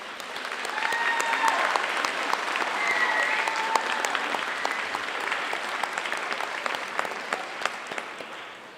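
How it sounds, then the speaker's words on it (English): Applause for parents and guardians at a high school equivalency graduation ceremony: a large crowd clapping in a dense, sustained roar, steady and even throughout, with only faint voices mixed in. "let's just give them their much-deserved appreciation with a round of applause"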